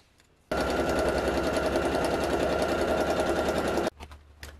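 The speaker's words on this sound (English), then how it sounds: "So I have it on a zigzag stitch on its widest setting." A sewing machine runs a wide zigzag stitch on fabric in one loud, steady burst of rapid mechanical pulsing lasting about three seconds, framed by quiet handling sounds before and after.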